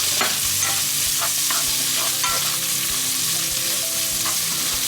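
Seafood and black rice stir-fry in a hot pan, with a steady loud sizzle broken by repeated rhythmic scraping and tossing strokes of a spatula, close by and with no voices.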